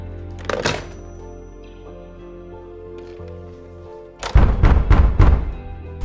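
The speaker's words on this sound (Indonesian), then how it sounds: "Dan terdengar suara ketukan." Knocks on a house door in a scene from the horror film Annabelle: a single thud early over a quiet ambient bed, then a series of four loud, heavy knocks in quick succession.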